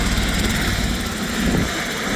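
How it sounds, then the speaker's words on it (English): Loud, continuous helicopter rotor and engine roar close by on a sightseeing flight along Australia's Great Ocean Road, with a rapid rhythmic chopping throughout. "so I'm going on a helicopter."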